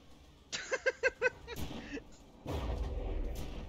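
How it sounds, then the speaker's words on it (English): Missile launches and impacts in From The Depths, a rapid series of four or five sharp pulses followed by a heavy rumbling boom, with voices briefly heard. "We got a mole missile again."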